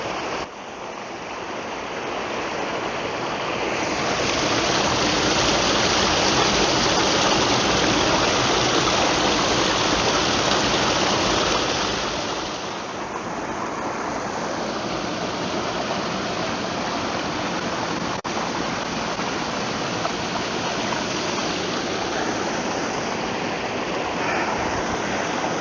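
Water runs along a stream outdoors in a continuous, loud rushing wash that dips briefly partway through and then carries on steadily.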